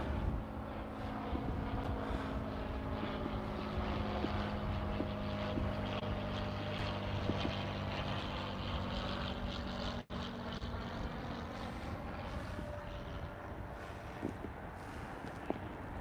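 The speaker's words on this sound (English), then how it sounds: "Is that fancy plane again?" A propeller airplane drones steadily overhead for the whole stretch, a continuous low engine hum with wind noise and no talking.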